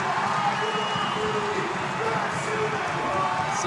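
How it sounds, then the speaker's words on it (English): An Iona basketball home crowd roars steadily in an arena during a game against Fordham, a dense, continuous wash of cheering noise with a commentator talking over it. "C.J. Anthony revving up this Iona crowd, which is as loud as it's been all day long"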